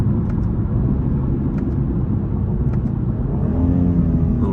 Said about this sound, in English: Little rev match downshift.